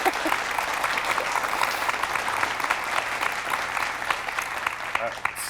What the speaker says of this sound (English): I don't think that deserves applause.